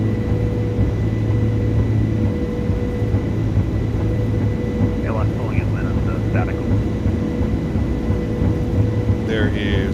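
An Airbus A330-300 in Microsoft Flight Simulator 2024 rolls down the runway with its engines at takeoff power, a steady loud roar and hum from the cockpit, with pilots talking over it.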